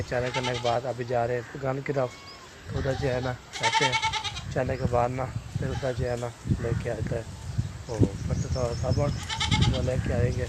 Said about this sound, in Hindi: तो इधर देखे ना बकरे जा रही है